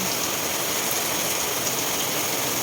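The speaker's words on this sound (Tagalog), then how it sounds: "So, ayan, nakikita niyo naman malakas ang ulan." Heavy rain pours steadily in a dense, continuous hiss with no breaks, loud and enveloping, with no voices.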